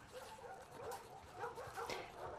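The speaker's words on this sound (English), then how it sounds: "Nice doggy." A dog in The Last of Us Part 2 video game gives soft, quiet yips and whimpering barks in a short, faint burst of several sounds.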